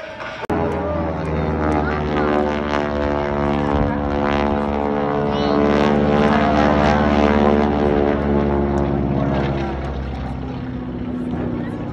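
A North American T-6 propeller trainer flies aerobatics at an airshow, its radial engine droning steadily and loudly with a rough, throbbing tone that swells and fades slightly as it climbs and turns.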